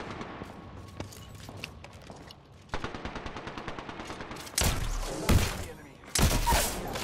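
Automatic and single gunshots from a firefight in the game Apex Legends, starting as a rapid rattling burst and building to louder, heavier bangs near the end, with brief voices between the shots.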